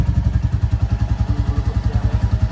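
A motorcycle engine idles close by with a steady, fast thumping pulse and a clattery mechanical beat, running evenly without any revving.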